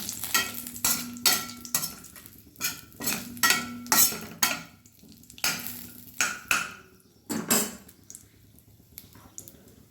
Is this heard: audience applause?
no